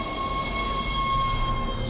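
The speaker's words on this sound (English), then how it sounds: "So we took the tram to travel the ship." A tram carrying riders through a spaceship in the video game Dead Space: a steady mechanical rumble with a thin sustained whine on top, even and continuous, with no voices.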